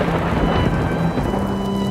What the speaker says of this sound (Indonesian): Hujan pun turun deras